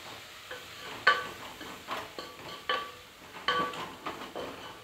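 A spoon stirs drumstick biryani with yogurt in a pot, producing repeated scraping strokes in an irregular rhythm over a soft sizzle, close and moderately quiet.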